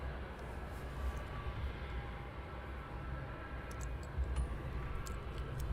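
Ryanair airliner at Luton Airport, a distant jet engine roar forming a steady broad rumble that holds throughout, with no talk over it.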